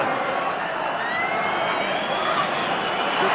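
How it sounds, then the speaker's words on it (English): Dense roar of a football crowd from Crystal Palace supporters at an FA Cup semi-final against Liverpool, a steady broadband wash of cheering and chanting that stays loud and even throughout, with no clear voices standing out. "The crowd booming with noise from Palace supporters"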